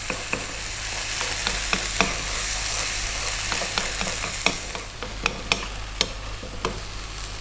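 Spicy chicken frying in a pan on high heat, a steady loud sizzle with repeated sharp clicks and taps of stirring scattered throughout, no talk.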